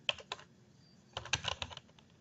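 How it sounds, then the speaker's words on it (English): Bursts of typing on a computer keyboard: a couple of quick isolated keystrokes, a pause, then a denser run of clicks. The typing is close and fairly quiet, with nobody speaking. "I'm going to type in Texas Tech here"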